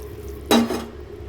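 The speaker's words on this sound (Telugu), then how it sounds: "ఇప్పుడు దీనంతా మనం బాగా కలుపుకున్నాం." A spoon gives a single brief scraping stir through okra curry with tamarind and water in a cooking pot, against a quiet background hum.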